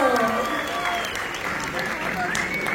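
An audience claps after a skit, a steady wash of applause holding at an even level throughout, with voices talking over it.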